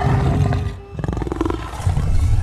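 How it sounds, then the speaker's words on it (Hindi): A hungry lion roars from a riverside jungle, a loud, rolling growl that swells, dips briefly, then surges again with a deep rumbling texture. "ये तो भूखे शेर के दहाड़ है।"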